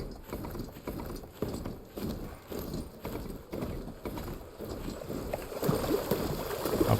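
Hooves clip-clop at a steady, even rhythm as a mount moves in the video game Horizon Forbidden West. The beats sound moderately close over a soft outdoor background that swells toward the end.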